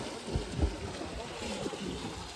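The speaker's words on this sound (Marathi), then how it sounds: "पाऊस पण खूप चालू आहे" Steady broadband hiss of rain falling, with low rumbling thuds and some muffled noise underneath throughout.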